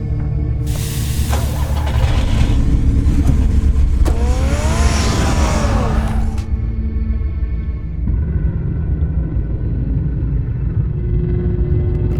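Batman's car engine in Batman: The Telltale Series, a loud, steady rumbling engine that surges and revs with rising whine in the middle, then settles into a lower idle drone.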